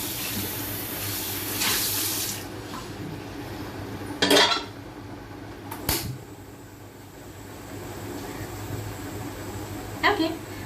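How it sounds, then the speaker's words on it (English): A pan being washed by hand under a running kitchen tap, with steady water flow and a few sharp metallic clanks of the pan against the sink, moderately close, with a voice faintly in the background. "Let me just wash my pan and get back."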